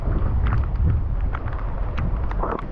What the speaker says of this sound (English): It's actually starting to rain pretty hard right now.